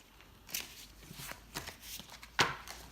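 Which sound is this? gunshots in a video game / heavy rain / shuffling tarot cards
shuffling tarot cards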